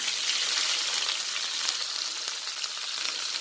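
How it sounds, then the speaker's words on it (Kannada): Curry leaves, onion and green chilli fry in a pan with a loud, steady, close sizzle and hiss that fills the whole stretch, and no talk. "ಹಾಗೆ ಗ್ರೀನ್ ಚಿಲ್ಲಿ ಎಲ್ಲ ಫ್ರೈ ಮಾಡ್ಕೊಳ್ಳೋಣ."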